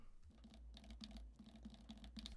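Rapid, uneven keystrokes on a computer keyboard, close and fairly quiet, with no voices.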